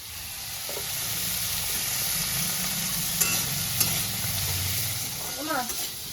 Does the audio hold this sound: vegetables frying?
yes